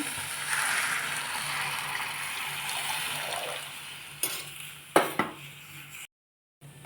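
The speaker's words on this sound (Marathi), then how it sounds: "त्याच्यात मी आता तांब्यावर पाणी ॲड करते" A loud hiss and rush of water poured from a copper pot into a hot pan of frying masala, easing off, followed by a few sharp metallic clanks and sudden silence.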